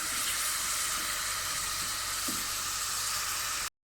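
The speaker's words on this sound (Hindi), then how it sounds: "अदरक लहसुन का पेस्ट और प्याज डालना है और अच्छे तरीके से इनको 2 से 3 मिनट के लिए चिकन के अंदर फ्राई करना है" Chicken fries in a pan with ginger garlic paste and onion, giving a loud, steady sizzling hiss that fills the foreground without pause, then cuts off abruptly at the end.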